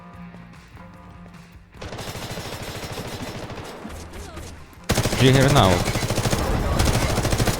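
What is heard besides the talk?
gunfire in a video game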